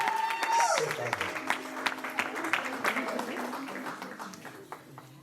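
Wedding guests applauding for the bride Alice after a prayer, a broad wash of clapping that swells at first and gradually thins out, with a brief tone and a few voices mixed in.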